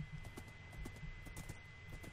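A horse in the Minecraft video game clip-clops along, its hooves giving soft, evenly spaced steps that stay faint and steady, with no talking.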